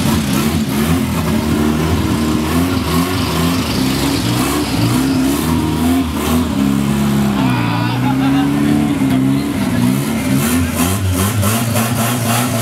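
A BMW M2 engine revs loudly and continuously at a car show at a shopping boulevard, a dense throaty roar rising and falling near by, with crowd chatter mixed in.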